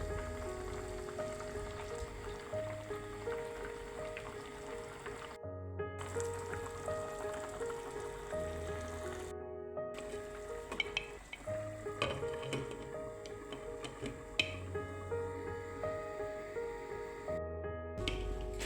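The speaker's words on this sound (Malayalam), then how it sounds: "ഇനി ഇതൊന്ന് നന്നായി ചുറ്റിച്ചെടുത്ത് തിളയ്ക്കുമ്പോൾ നമുക്കിതൊന്ന് മൂടി വയ്ക്കാം" A Kerala-style fish curry cooking in a pot, a continuous bubbling, crackling simmer with a few brief pauses, close and steady, with no talking.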